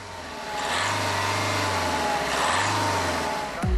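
An Opel with a 1.3 CDTI EcoFlex 70-kilowatt diesel engine on a test drive, a steady close engine drone with mild swells in revs and road noise, no talking.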